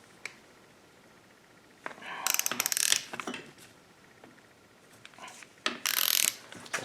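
A ratchet wrench clicks in short bursts while bolts are torqued during assembly of a 2010 Harley-Davidson M8 engine, two loud rapid runs of ratcheting separated by quieter metallic handling, close up.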